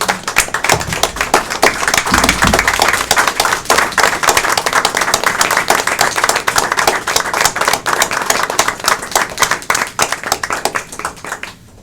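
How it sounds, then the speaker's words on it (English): Sustained audience applause at a county commissioners court meeting, a dense crowd of clapping hands that stays loud and steady for about twelve seconds before tapering slightly at the end. "These folks deserve a round of applause"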